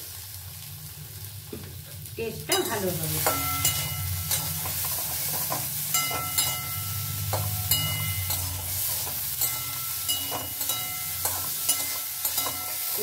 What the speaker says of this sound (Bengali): এটাও আমি চাপা দিয়ে ভালো করে একদম সিম করে চাপা দিয়ে ভালো করে ভেজে নেব